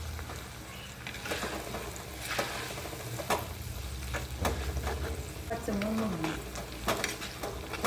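Green grape pickle paste with ground chili sautés in a hot pan, a steady broadband sizzle with scattered spoon scrapes and clinks, plus a brief tonal sound in the background.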